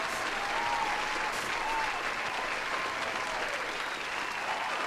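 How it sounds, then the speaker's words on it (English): Steady applause from a crowd, dense clapping sustained throughout at an even level, with faint voices mixed in. "Here's another round of applause."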